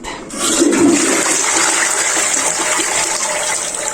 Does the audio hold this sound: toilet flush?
yes